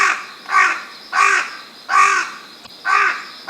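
A carrion crow (Corvus corone) gives four hoarse, rasping caws at an even, unhurried pace, clear and fairly close against a quiet background.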